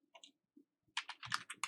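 Computer keyboard keys pressed during game programming work: a few light isolated taps, then a quick run of sharp clicking keystrokes, close and alone without speech.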